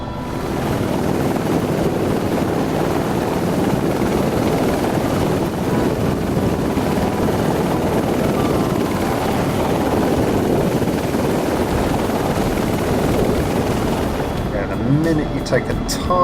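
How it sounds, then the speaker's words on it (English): A Eurocopter AS350 B3+ helicopter in a flight simulator game, flying from Glasgow to Oban: a steady, continuous rotor and turbine drone that holds at an even level throughout, with a few faint clicks near the end. "a really hands-on helicopter to fly"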